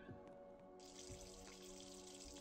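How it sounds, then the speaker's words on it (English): Sink tap running in the Roblox horror game Evelyn, set in a house: a steady hiss of flowing water that swells louder partway through and carries on alone with no talking. "I hear water running."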